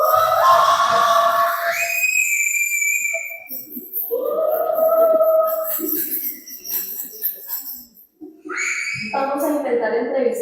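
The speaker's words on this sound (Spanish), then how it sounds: "Hay muchos gritos. Los soldados de Israel celebran con gran gozo y júbilo." Soldiers in the city of Jericho shouting and cheering in celebration, with loud rising and falling yells and whistle-like cries close by, broken by a short lull before the shouting resumes.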